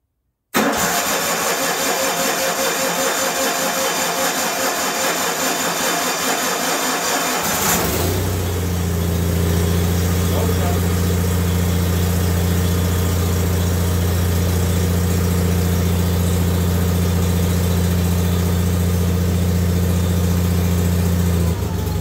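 A John Deere 318 garden tractor engine cranks roughly for several seconds, then catches and settles into a steady, loud running idle close by.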